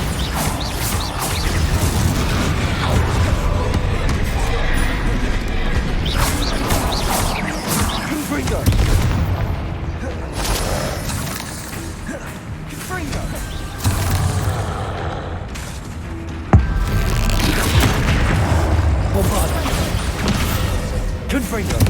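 Bombarda explosion spells go off in Hogwarts Legacy, with dense blasts and crashing impacts layered over busy game sounds and a talking voice, with one sharper burst near the end.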